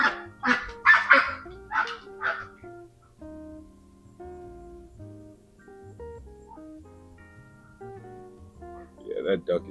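A duck being chased gives a burst of loud, repeated honks over the first couple of seconds. Quieter tonal sounds follow, with a few more honks near the end.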